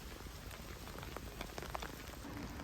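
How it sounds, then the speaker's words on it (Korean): Rain falling during an outdoor walk on a rainy day: a soft, even patter of drops on surfaces, quiet and constant, with scattered slightly sharper drips and no voices. "빗소리 들으며 걸으니 행복했다"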